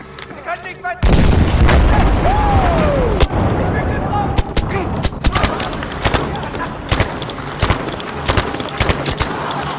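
Battlefield 5 firefight: after a short quiet start, a loud blast opens dense, continuous gunfire with repeated booms and sharp shots through the rest, a voice talking faintly beneath the combat.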